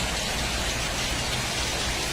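Steady evening rain falls at home, a dense, even hiss of drops pattering on surfaces that fills the whole short stretch with no voices.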